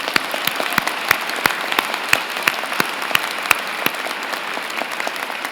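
Audience applause at a university convocation ceremony: steady, dense clapping from a large crowd with sharp individual claps standing out, continuous and moderately loud throughout.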